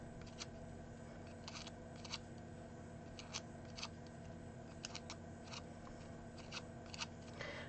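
Soft, sharp snipping and scraping of scissors curling paper petals, in irregular clusters over a faint steady hum.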